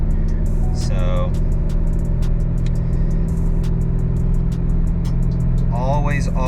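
A VMP Loki Level 1 supercharged car held in 6th gear on a dyno, its engine droning loud and steady with a dense low rumble throughout, while brief voices cut in over the top.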